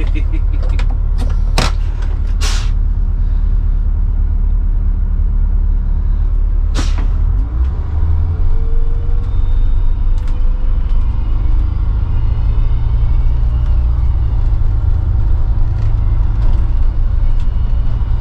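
A 1990 MCI 102C3 coach bus pulls away after its parking brake is released. Sharp pneumatic clicks and hisses come first, then a deep steady diesel rumble builds, heard close from inside the cabin.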